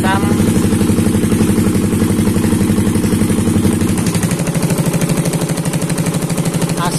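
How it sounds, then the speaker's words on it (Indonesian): Motorcycle engine with a PWK carburetor idling after a tune, a steady loud putter whose rhythm turns slightly uneven and choppy partway through, heard up close with no talking. "Saya coba setting langsam"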